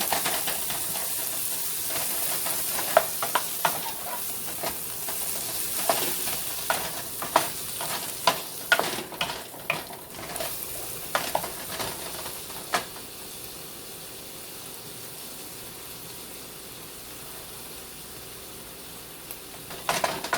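Thyme chicken sizzles and fries in a pan, a steady hiss broken by sharp crackles and stirring scrapes, busiest in the middle and then settling into a softer, even sizzle.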